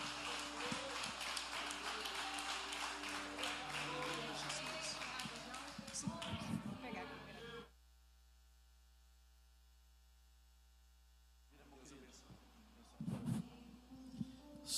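Members of a church congregation applaud during a worship service, bursts of clapping and voices over a constant mains hum, cut off into near silence midway, then faint clapping and noise returning toward the end.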